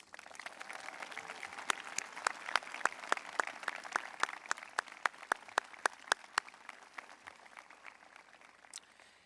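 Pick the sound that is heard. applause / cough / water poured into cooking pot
applause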